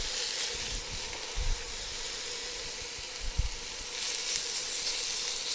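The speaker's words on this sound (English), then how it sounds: "That's a good sizzle to have." Beef strips sizzling and frying in a hot pan for a pepper steak, a steady close hiss with a couple of brief low thumps as the meat shifts.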